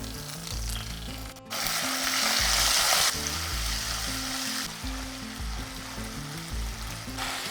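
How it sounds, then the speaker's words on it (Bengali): Ginger paste and sugar fry in oil with salt in a pan, a loud, continuous sizzle broken by scraping, clattering stirs of a spoon, with no voices. "দেখুন, দেখতে দেখতে আদাটা বেশ ভাজা হয়ে গিয়েছে"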